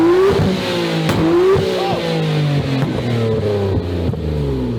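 A wide-arch Lamborghini Huracan engine revs up and down repeatedly, with sharp crackling pops and bangs from the exhaust between the revs.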